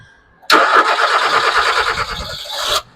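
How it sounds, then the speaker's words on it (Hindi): A Hyundai i20 with an ECU fault cranks with a brief whirr, then its engine catches and runs at a loud, steady idle for about two seconds before cutting off. "गाड़ी स्टार्ट कर।"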